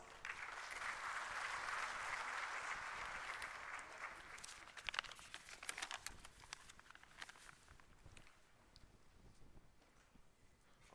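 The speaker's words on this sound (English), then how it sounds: "And I request you all to kindly give him a welcoming round of applause." Welcoming round of applause from the audience at a National Human Rights Day ceremony, steady dense clapping that fills the hall for several seconds, then thins out and fades toward the end.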